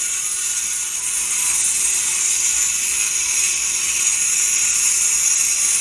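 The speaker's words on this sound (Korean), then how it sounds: "진공 청소기를 작동하고 예, 커팅을 내주시는 거예요. 바닥 커팅." A floor cutting saw scores a shallow trench about 10 cm wide into a concrete floor for drain piping while a vacuum cleaner runs alongside, making a loud, steady, high-pitched mechanical whine and hiss that continues without a break and with no talking.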